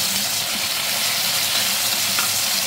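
Tomatoes sautéing in cooking oil give off a steady, close, hissing sizzle with faint stirring, heard alone for a few seconds with no talk.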